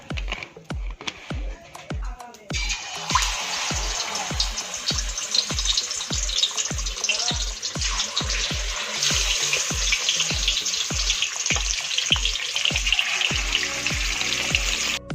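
Spices frying in oil for prawn biryani, a bright continuous sizzle under a steady repeating low thump that runs through the whole stretch.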